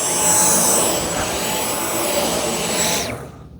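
A Dyson Cyclone V10 Origin cordless vacuum runs with a loud, steady high-pitched whine and airy roar up close, then spins down and cuts off abruptly near the end.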